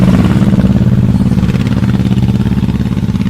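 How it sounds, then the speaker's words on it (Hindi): A motorcycle engine runs steadily and loudly close by, its low pulsing throb holding through the whole stretch with no voices over it, as a rider pulls away on a village road at dusk. "अपनी मोटरसाइकिल पर बैठकर वहां से निकल गया था"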